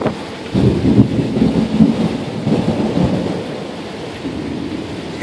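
Rumbling thunder rolls through a June storm alongside steady rain, loud and close at first, then fading into a continuous rainy hiss, with no voices.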